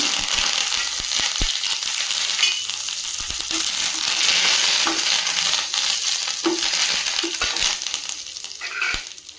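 Mustard seeds and curry leaves sizzle loudly in hot oil, a steady bright frying hiss with scattered pops and crackles from the seeds, close and continuous.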